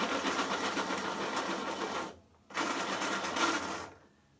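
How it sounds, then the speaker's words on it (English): An electric pencil sharpener grinds a white colored pencil in two close, steady whirring bursts, each about two seconds long with a brief pause between, and no talking. "just to save time, I'm going to use my electric sharpener here"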